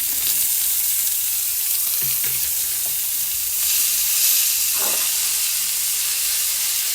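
Paneer for Punjabi-style paneer bhurji fries in a pan, giving a steady, bright sizzle that runs throughout, with a few soft stirring scrapes and no voices.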